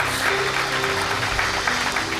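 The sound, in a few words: church congregation clapping for Jesus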